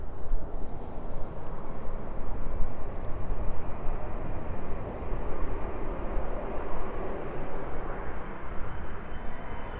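A DHL Boeing 777 arriving at East Midlands Airport produces a steady, broad jet roar that holds constant for about ten seconds at a moderate distance, with faint higher whines above it and no talking.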